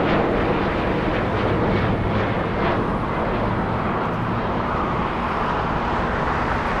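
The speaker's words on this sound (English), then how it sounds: "That is Alaska Airlines 1419, flying in from Guadalajara" An Alaska Airlines Boeing 737 jet at LAX airport gives a steady broad engine roar, heard from a distance with a faint traffic-like rumble underneath and no talking.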